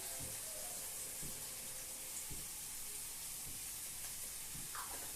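Onions fry in a pan for a crab curry, giving a quiet, steady sizzle and hiss with soft, periodic clinks and bumps throughout, fairly faint and without talk.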